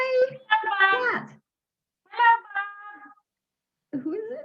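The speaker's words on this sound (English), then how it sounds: "Cat." A cat at a care home meows several times up close, in drawn-out vocal cries separated by short silences.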